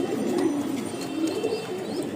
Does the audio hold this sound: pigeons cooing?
yes